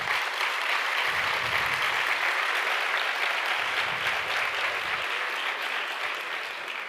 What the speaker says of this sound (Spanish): yo creo que merece un aplauso también